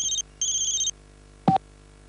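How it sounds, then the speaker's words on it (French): A mobile phone rings nearby in two short electronic trilling bursts separated by a brief gap, followed by a single short click or tone a moment later, quiet and without talk. "Mais tu vas l'éteindre ton portable?"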